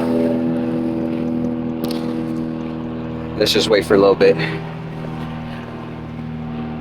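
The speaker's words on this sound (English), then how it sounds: "Loud ass plane." A loud airplane flies overhead outdoors during rear shock work on a 1995–1996 Jaguar XJ6, producing a steady, heavy droning roar throughout while someone briefly speaks over it.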